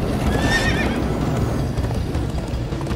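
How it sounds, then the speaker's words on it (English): Horses whinny briefly over steady galloping hoofbeats in Minecraft Story Mode, loud and close, the neigh rising early and the clip-clop running on throughout. "Come on, horses!"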